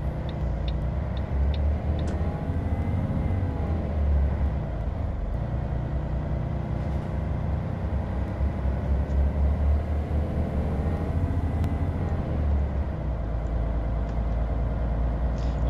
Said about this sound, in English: I can very much guarantee that that throb is from a 12-litre Volvo.